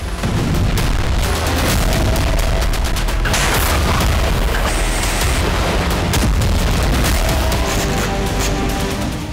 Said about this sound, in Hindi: रूसी सेना ने यूक्रेन के एनर्जी सेक्टर पर भी जबरदस्त विस्फोट किए हैं।